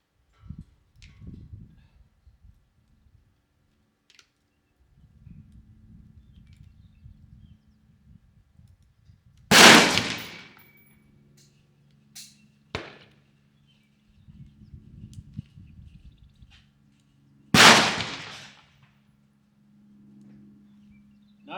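Three sharp, loud reports from a Ruger 10/22 firing CCI standard velocity rimfire ammo at an outdoor range, spaced several seconds apart, with soft handling and movement noises between them.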